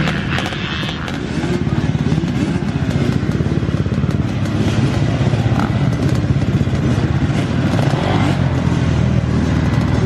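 An old American-spec twin-shock motocross bike racing at Toddington, its engine droning loud and steady with a rough, rattling exhaust and no letup.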